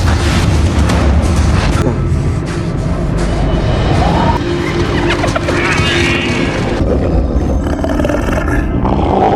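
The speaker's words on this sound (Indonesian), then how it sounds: "seekor harimau buas yang tiba-tiba saja menerkam" A fierce tiger roars in a film scene, a loud, sustained snarl layered over dense rumbling score and effects, with a narrator's voice talking over it.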